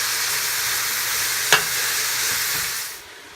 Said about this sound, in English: while that mirepoix is sauteing in the stock pot